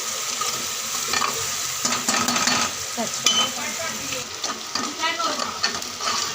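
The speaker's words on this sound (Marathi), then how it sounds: "पूर्ण लालसर होईपर्यंत चांगलं कांदा परतून आपल्याला घ्यायचं आहे" Onion frying in oil until reddish, stirred in a pan with a steady loud sizzle and crackle and occasional scraping of the spoon, continuous throughout.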